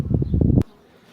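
A dense, low buzzing of honeybees at an apiary hive swarms close by for about half a second, then cuts off abruptly, leaving only faint background hum.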